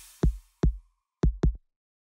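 Four punchy drum hits for a drum break sample, spaced irregularly as two pairs with a short gap between them, heard alone and dry with no music underneath.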